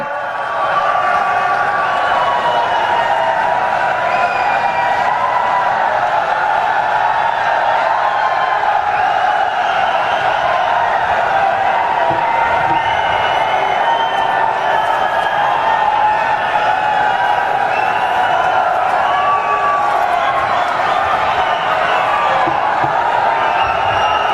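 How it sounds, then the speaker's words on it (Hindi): A large outdoor election rally crowd greets a BJP speaker with loud, sustained applause and cheering, a dense continuous roar that holds steady throughout. "आदरणीय बालाराम जी मुंड, जोरदार तालियों से स्वागत"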